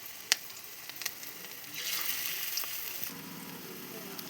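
Fish roe pakoras dropped into hot oil in a wok, a few sharp clicks and taps, then a soft bubbling sizzle that swells and holds steady, fairly quiet and close.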